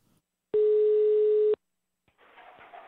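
A telephone dial tone sounds during a prank call: one steady, loud tone holds for about a second, then the line falls quiet before a soft hiss of line noise comes in.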